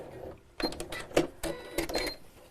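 A sewing machine stitches back and forth to lock a seam in short, quiet mechanical bursts with brief pauses between them, heard close up.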